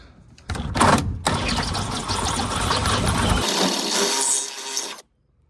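A 1.5 inch pipe reaming tool grinding into 1.5 inch pipe in an RV sewer line, a loud rough whirring with a short stutter near the start, then steady cutting for about four seconds before it stops.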